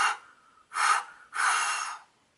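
A voice imitates the wolf from the Three Little Pigs blowing hard on the house: three forceful breathy blows, the first short, the next two long and loud, heard alone.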